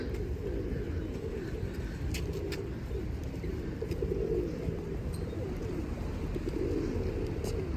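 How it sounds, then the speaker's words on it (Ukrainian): Pigeons coo softly over a constant outdoor hum, with faint chirps scattered in, in light snowfall. "вони воркують."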